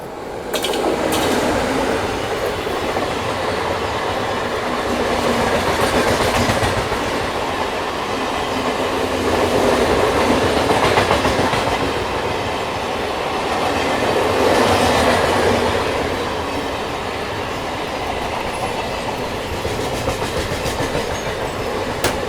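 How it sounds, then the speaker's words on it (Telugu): An oncoming Indian Railways locomotive passes on the adjacent main line, heard from aboard the Falaknuma Express: a loud, sustained rumble and rush with clickety-clack and surging swells of wheel noise that rise and fall throughout. "ఆ లోకోవే మనకి ఇక్కడ ఎదురొస్తుంది"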